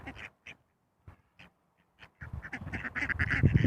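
Wild ducks quack in short separate bursts at first, then in a dense, loud run of overlapping calls close by, choosing mates outdoors.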